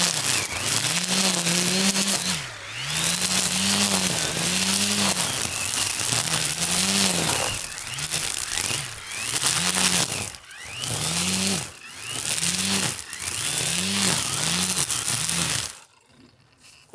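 A grass trimmer cuts along a narrow ridge path between rice paddies, its small engine droning close by and repeatedly rising and easing in pitch as it sweeps, then cutting off abruptly near the end.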